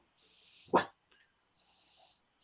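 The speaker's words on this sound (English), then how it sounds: "Hey, what are you barking at?" A single dog bark sounds indoors, loud and close, with faint breathing-like noise around it.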